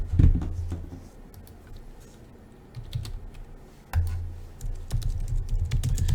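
Typing on a computer keyboard, a run of close, light key clicks in uneven bursts with short pauses, alone and without talk.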